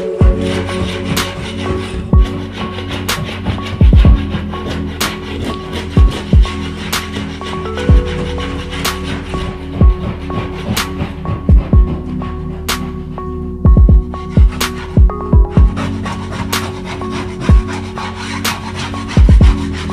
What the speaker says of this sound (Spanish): Lo vamos a hacer mejor con la espátula, porque con la lija se hace demasiado polvo